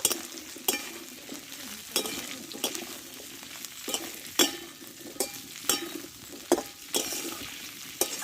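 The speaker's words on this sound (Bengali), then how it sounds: "এবার বরবটিগুলো দিয়ে দেবো একসঙ্গে ভালো করে কষে নেব" Potatoes and green beans stir-fried together in a pan for a vegetarian dish, a spatula scraping and clinking against the metal at a steady rhythm of sharp strokes over a constant soft sizzle, with no talk.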